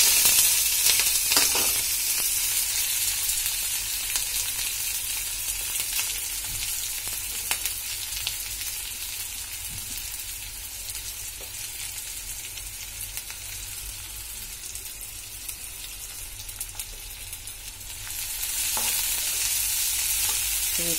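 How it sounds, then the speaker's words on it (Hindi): Onion and chilies fry in hot oil with a loud, steady sizzle that crackles on without pause. A few faint stirring knocks sound near the cook, and no one speaks. "इसके बाद ये प्याज और मिर्च है उसको डाल देते हैं"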